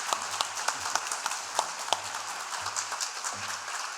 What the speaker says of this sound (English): Can I have a round of applause for both our candidates and for our moderator?